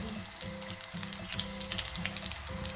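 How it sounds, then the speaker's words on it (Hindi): Lollipops fry in hot oil, a continuous close sizzle with faint crackling and a low steady hum underneath, and no talking. "अब हम लॉलीपॉप फ्राई कर लेते हैं।"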